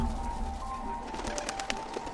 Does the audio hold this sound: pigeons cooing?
yes